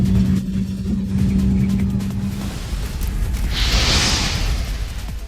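A modified BMW F30 328i with a stage 3 400 hp N20 engine accelerates hard in a race, a steady loud engine roar with a whooshing rise partway through.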